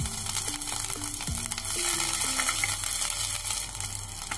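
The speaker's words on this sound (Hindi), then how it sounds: "ऑयल गर्म हो गया है, अब हम इसमें जीरा डाल देंगे, अदरक, हरी मिर्च और करी पत्ता डाल देंगे" Cumin, ginger, green chili and curry leaves hit hot oil for vermicelli upma, giving a steady, close sizzle with a few sharp clinks of a utensil near the start.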